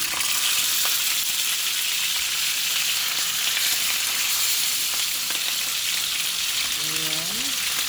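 Galunggong fish fry in hot oil in a home kitchen, a loud, continuous crackling sizzle up close with no break, joined near the end by a brief faint tonal sound.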